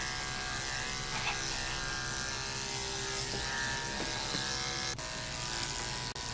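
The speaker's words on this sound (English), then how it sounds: "When you're clipping a dog's body, you don't want him to sit." Electric clippers buzz steadily while trimming a Maltese puppy's body, a close, continuous motor drone that shifts slightly as the blades move through the coat, with a couple of brief clicks near the end.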